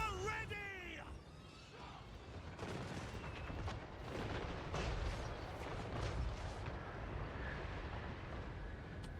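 Cannon and artillery fire boom in a Total War: Warhammer 3 battle, a series of distant thuds and cracks over a windy rumble, with someone speaking at the start.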